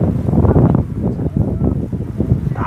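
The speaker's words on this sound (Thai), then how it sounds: "ลมพัด" Wind blows steadily outdoors, a continuous low rumbling buffet of gusts against the microphone that swells and dips without pause.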